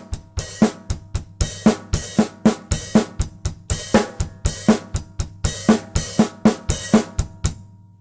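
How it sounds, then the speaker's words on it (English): A drum kit loops a steady pattern on kick drum and hi-hat, crisp regular hits and bright cymbal chips repeating evenly and close over about eight seconds, with no talk. "you would play kick drum and hi-hat like this."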